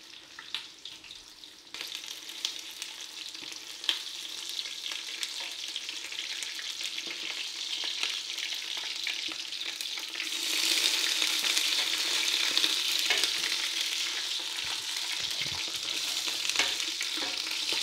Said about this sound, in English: Turn that down to a nice medium, and I'll let these onions get caramelized.